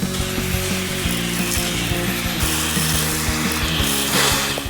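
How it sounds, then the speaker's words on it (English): A wire brush scrubs rust off the floor of a 1987 Jeep truck with a continuous, loud, rasping grind and an underlying motor hum, heard alone up close. "I'm gonna work up this rust with the wire brush"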